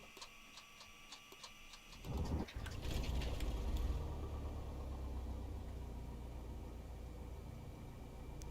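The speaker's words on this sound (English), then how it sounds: "now that you guys have the engine running" A single-engine light aircraft in a flight simulator starts and settles into a low idle, a steady rumbling drone after a burst of clicks and ticking, moderately loud and continuous with no talking.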